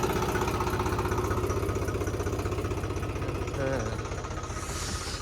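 A tractor's diesel engine with a blown gasket idles close by, chugging steadily with a rhythmic low knock, running continuously throughout.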